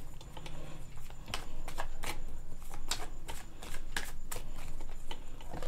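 Tarot cards shuffled by hand during a reading, a soft steady riffle of sliding card stock with repeated sharp slaps, close up, and one brief spoken word.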